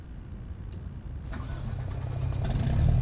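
A MAN truck engine in American Truck Simulator cranks and catches, then idles with a low, steady rumble that grows slightly louder, heard up close with no talking.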